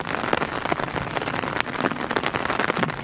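Rain falls steadily during a mountain camping trip on a steep trail, a dense, even patter with scattered sharper drops close by, continuous for the whole stretch with no talking.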